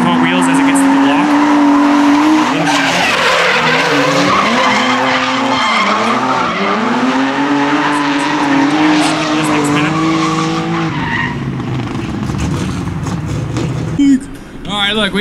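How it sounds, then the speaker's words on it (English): Ford Mustang drift cars in a tandem competition run, loud sustained engine roar with rising and falling pitch and continuous tire squeal, near and dominant, while a commentator talks over it throughout. "we got Mustang versus Mustang, Jason versus Zane"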